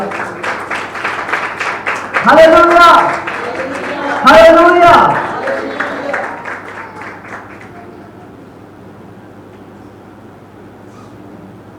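A church congregation applauds for Jesus Christ, with dense clapping that swells in two loud bursts among voices calling out in praise, then fades into quieter room noise with a person speaking.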